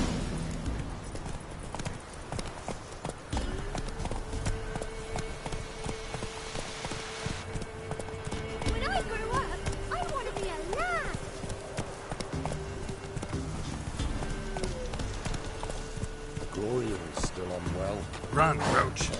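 Roach the horse gallops in The Witcher 3, steady rhythmic hoofbeats running under continuous game music and a voice talking.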